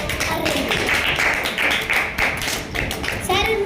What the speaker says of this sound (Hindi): मरियम फ़ातिमा के लिए ज़ोरदार तालियां